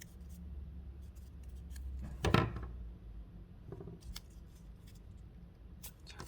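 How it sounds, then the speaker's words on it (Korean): Scissors cutting paper for a Pokémon Greninja papercraft, a single crisp snip standing out over quiet background with a few faint rustles and small clicks. "가운데쯤에서 좀 더 이렇게 다 자르고 끝부분 대각선으로 이렇게 잘라주세요."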